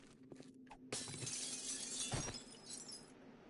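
Glass shatters loudly in the 7 Days to Die survival game, a sharp crash followed by a long scattering of tinkling shards, after a few quieter clinks.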